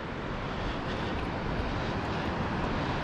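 A drone flying under a bridge over a river gives a steady, loud broadband motor whir that stays constant for the whole stretch, with no talk.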